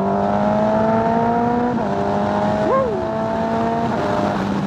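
Kawasaki ZX14R hyperbike with a Pingle quick shifter riding through traffic, its steady engine drone rising and dropping across quick gear changes, loud and close throughout.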